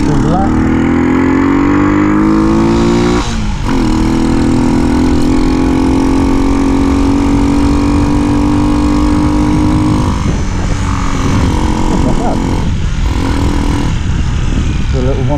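A small 125cc cruiser motorcycle engine, a Hartford HD125, idles cold close by, its pitch rising and settling with a few throttle blips, while someone talks over it.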